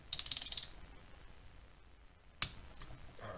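A ratchet tightens bolts during an engine rebuild, giving a quick burst of rapid clicks and then a single sharp click after a pause, close and fairly quiet, with no speech.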